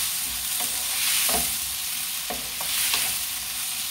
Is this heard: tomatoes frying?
yes